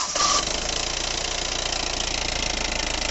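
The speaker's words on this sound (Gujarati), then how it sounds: "તો ભાઈ કંઈક આ પ્રકારનું એન્જિન છે ભાઈ મહિન્દ્રા થારનું." A 2011 Mahindra Thar CRDe diesel engine idles steadily, a close, even mechanical clatter and rumble that holds at constant loudness throughout, with no talking.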